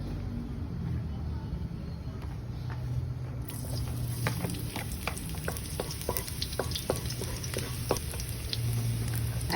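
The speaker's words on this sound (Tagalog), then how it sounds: "we're gonna saute the garlic" Garlic sizzles in a hot pan, a steady frying hiss with light stirring clicks and taps that grow busier partway through, heard close against quiet background noise.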